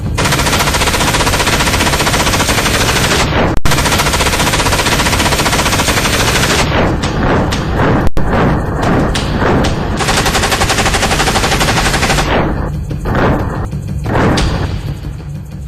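Modern army guns fire in long, dense automatic bursts, loud and continuous, with brief gaps and heavier booming reports toward the end.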